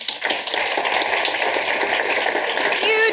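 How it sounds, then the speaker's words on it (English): Applause from an audience at a networking night, a dense, steady wash of many clapping hands at a constant loud level for the full stretch, nobody speaking over it. "Huge round of applause for those ladies, please."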